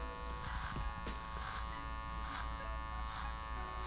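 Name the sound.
hair clippers cutting hair, clipper-over-comb technique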